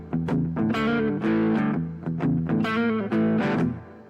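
Distorted electric guitar plays a blues lick, with slides between chord shapes and quick repeated stabs in choppy phrases, loud and close with no talking.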